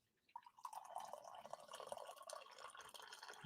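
Coffee pours from a pot into a cup, a short bright gurgling stream that starts after a brief quiet and runs on steadily, close and fairly soft.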